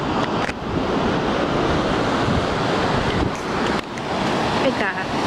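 Surf rolls and breaks at an ocean beach where people are surfing, a steady loud wash of waves with wind buffeting the microphone throughout and a brief lull near the middle.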